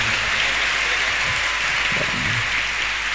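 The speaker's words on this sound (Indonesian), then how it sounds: "beri tepuk tangan untuk pemateri kita pada siang hari ini." An audience at an Islamic history seminar applauds for the speaker, steady dense clapping throughout with a faint voice briefly underneath.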